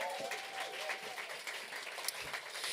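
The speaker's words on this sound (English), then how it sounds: "Give her another round of applause." Audience applause at a Broadway and Beyond stage show, steady dense clapping filling the whole stretch at an even level with no voices on top.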